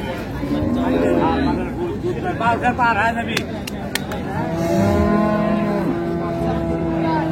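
Dairy cows moo at the Raniganj cattle market in Dinajpur: one long, deep, close moo rises above a crowd's babble and nearby talking.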